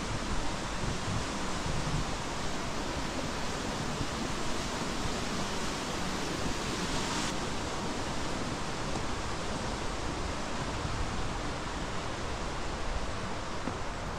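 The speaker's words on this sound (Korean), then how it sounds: "물소리가 우렁차게 들려요." Loud, steady rushing of river water, a dense continuous roar close by with no voices.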